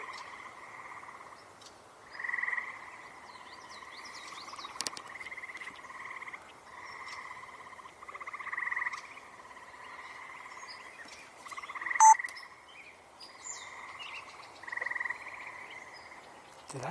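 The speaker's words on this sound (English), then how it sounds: "And we're hearing frogs and a gray catbird and a swamp sparrow." Frogs in a marsh croak in a steady, pulsing chorus that swells and eases over seventeen seconds, faint and somewhat distant, with a few brief bird chirps scattered across it and no voices.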